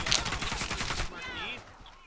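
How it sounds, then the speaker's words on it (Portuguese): McMillan sniper rifle fire in the video game Warface during a competitive esports match: loud, close gunfire cracks in rapid succession for about a second, then the game falls to quieter, distant ambience. "Tiro de Macmillan."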